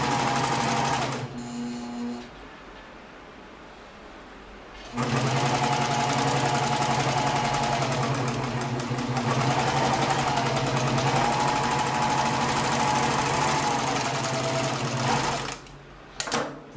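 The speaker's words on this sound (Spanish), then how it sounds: "Bajamos el prensa tela y continuamos la operación de costura." An industrial sewing machine stitches boxer briefs in long, steady, fast-running bursts, loud and close, with a short stop near the start while the presser foot is lowered and a halt at the end.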